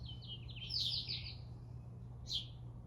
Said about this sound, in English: I'm gonna sit here and listen to the birds for a little bit